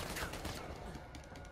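Gunfire in the video game Uncharted 4 crackles as a dense burst of rapid shots under a busy, noisy game mix.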